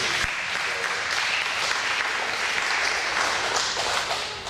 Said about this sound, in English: Let's give it a round of applause to our bass.